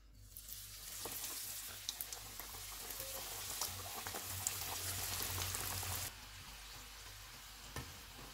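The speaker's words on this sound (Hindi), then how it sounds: "ऑयल गर्म हो गया, चूल्हे को कम कर देते हैं और इसमें मोमोज़ डाल देते हैं" Chicken momos for kurkure-style momos deep frying in hot oil on a lowered flame, a dense, loud bubbling sizzle with crackling pops that cuts off abruptly near the end, leaving a quieter background.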